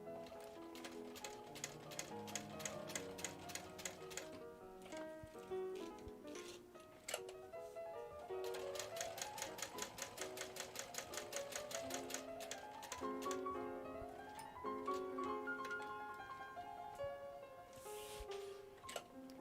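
A sewing machine stitches a carry-all bag, its needle clicking in quick regular bursts with short pauses between runs, steady and close, with tonal whirring layered over the stitching.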